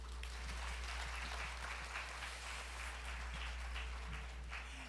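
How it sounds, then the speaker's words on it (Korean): An audience at a design forum applauds after a talk, a faint, distant wash of steady clapping over a low background hum. "따뜻한 박수 부탁드립니다"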